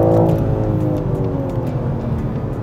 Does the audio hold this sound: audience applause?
no